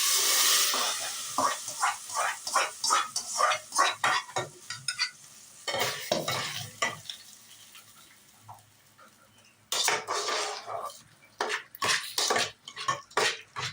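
Hot tempering is poured into mashed sorrel greens for village-style pulicha keerai masiyal, hissing and sizzling in bursts while a utensil scrapes and stirs the pan again and again, close and fairly quiet.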